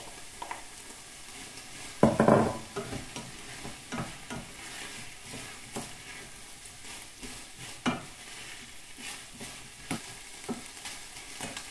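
Chicken goes into a hot pan for tortellini and hits it with a loud burst of sizzle. A steady fry follows, with repeated scrapes and clinks of stirring.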